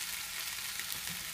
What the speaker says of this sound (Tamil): இப்போ நல்லா இதெல்லாம் சேர்த்து வதக்கணும்.